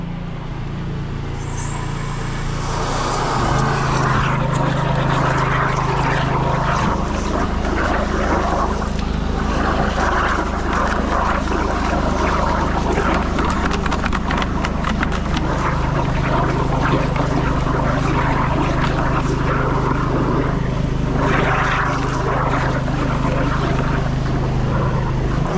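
A high-pressure drain jetter working a blocked stormwater drain, roaring loudly and continuously with a steady engine-like drone and hissing water throughout.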